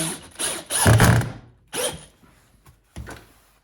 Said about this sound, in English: just make sure the board's centered and drive those screws home.